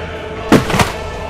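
Aircraft bomb dropped and exploding in War Thunder, heard as two distinct booming impacts in quick succession over steady engine-like background rumble, loud and fairly close.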